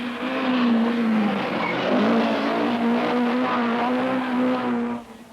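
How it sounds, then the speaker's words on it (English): A Chevette rally car on the 1979 Lombard RAC Rally at the Great Orme, Llandudno, passes at speed with a loud, steady engine note that rises and falls slightly, ending as it drops away. "fastest here, Jimmy McRae in the Chevette"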